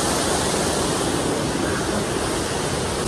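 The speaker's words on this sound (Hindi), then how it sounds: "पानी का जो साउंड है ज़्यादा आता होगा" Water rushes at Tenughat dam in Jharkhand, a loud, unbroken roar of flowing water with a steady hiss and no pauses.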